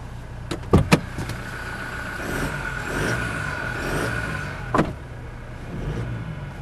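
A 2019 Toyota Hilux E Double Cabin 4x4 engine idles, then is revved in a few swelling pulls, preceded by a couple of sharp clunks, heard close up with no talking.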